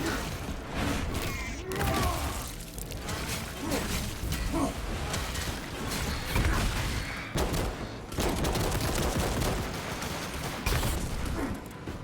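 Heavy standard-issue guns fire in the game Warhammer 40k Space Marine 2, rapid bursts of gunfire and booms recurring throughout amid chaotic battle noise and crashes, with occasional short pauses between volleys.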